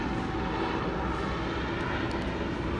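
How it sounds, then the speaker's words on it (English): Los Angeles sheriff's helicopter circling over Compton, California: a steady, droning engine and rotor rumble from overhead at moderate distance, continuous throughout with no speech. "the sheriff's helicopter's circling around"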